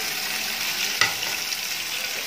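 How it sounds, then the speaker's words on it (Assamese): Boiled eggs fry in refined oil in a pan for an egg and potato curry, giving a steady, close sizzle with one brief knock partway through. "পিছত মই ইয়াতে বইল কৰি থোৱা কণীখিনি অকণমান ভাজি ল'ম"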